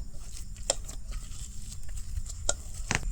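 Bread being mashed with ghee and a pinch of baking soda, giving soft squishy pats and occasional sharper taps, close and fairly quiet, with no speech.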